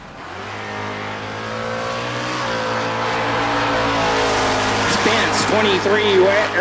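A Chevrolet pickup truck drag racing at the Texas Motorplex during bracket races, its engine revving up in a long rising roar, with a loud announcer talking over it.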